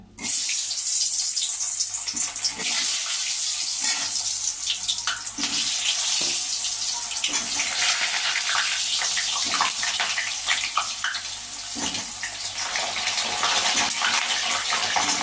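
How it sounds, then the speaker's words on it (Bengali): Potato pieces frying in smoking-hot oil over lowered heat give a steady, loud, close hiss and sizzle that runs without a break, with no talk. "তেল গরম হয়ে গেছে ধোয়া উঠে গেছে এবার আমি আঁচটা কমিয়ে আলুগুলো একে একে ছেড়ে দিলাম"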